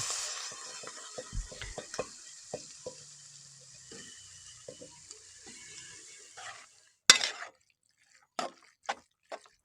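Clam meat is stirred into frying spices in a pot with scattered scraping and clinking strokes over a faint sizzle, which thins out before a final few sharp spoon taps after a pause.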